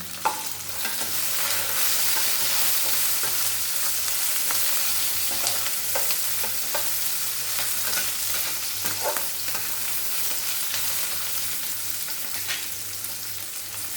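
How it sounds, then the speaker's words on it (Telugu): Green chillies frying in hot oil with golden brown onions as they are stirred, a steady close sizzle with scraping spoon strokes throughout, no voices. "పచ్చిమిరపకాయలు వేసుకొని కలబెట్టేసుకున్నాం"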